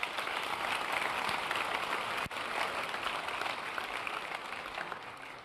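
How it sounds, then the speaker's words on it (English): Steady, dense applause from an audience at a Boys State leadership event, sustained and fairly loud throughout with a brief dip near the middle. "Let's give them a round of applause."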